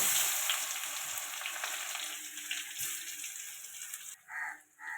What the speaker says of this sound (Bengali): তরকারিটা বসিয়ে দেওয়ার জন্য ফোড়ন দিচ্ছি তেজপাতা, 5 ফোড়ন,